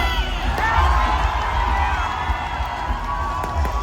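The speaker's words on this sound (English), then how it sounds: "Crowds were just wild and fun and just so happy to be out and celebrating." A New Year's Eve crowd in Cambodia cheers and shouts in a loud, dense, continuous roar of many voices, close by, with whoops rising above it.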